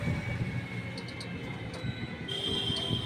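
A train on the Krishnanagar to Mayapur rail line rumbles past in a steady, continuous roll of wheels on track, heard at moderate distance with a faint high tone.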